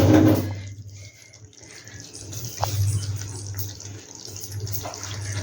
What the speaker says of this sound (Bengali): এবার যথারীতি একটু হাতটা একবার ধুয়ে নিই